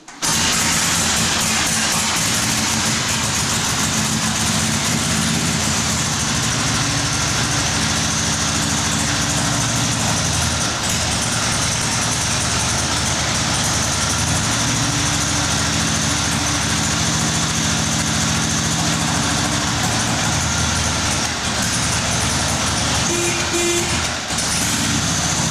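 A vintage Harley-Davidson engine runs steadily after a kick start, a loud continuous low rumble with a rough mechanical clatter throughout, close by and without any talk over it.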